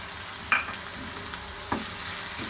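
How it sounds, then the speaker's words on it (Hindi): Ginger and garlic frying in a pan, a steady soft sizzle with a couple of brief stirring scrapes, moderately quiet and close. "अदरक लहसुन को भी हमें फ्राई करते हुए 1 मिनट हो चुका हुआ है"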